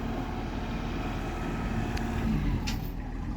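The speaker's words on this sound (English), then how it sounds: "There's the equipment, there's a tractor" A tractor engine on a rural New Mexico property drones at a steady low rumble throughout, close and continuous, with a couple of faint higher clanks or squeaks breaking through near the end.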